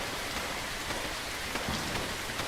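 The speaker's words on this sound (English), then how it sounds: "It was a really rainy morning in Old Blighty." Rain falls steadily on surfaces in the game Fallout London, a dense, even hiss of droplets with no voices over it.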